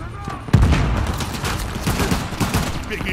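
Rapid gunfire rattles through a jungle gunfight in the video game Uncharted: The Lost Legacy, opening with a heavy boom and continuing as dense overlapping shots and bursts with a voice talking underneath.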